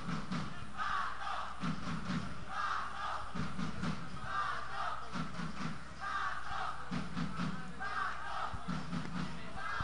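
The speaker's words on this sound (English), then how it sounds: "The crowd chants Pato as he comes off the field" Crowd chanting a player's name at an indoor arena soccer match: a large crowd repeats a rhythmic two-beat chant in steady cycles, loud and echoing, with thumping underneath.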